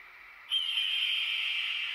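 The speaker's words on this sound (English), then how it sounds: "The bird call echoed much louder." A single sustained bird call starts abruptly and holds as a steady high whistling shriek, loud and clear, with no speech over it.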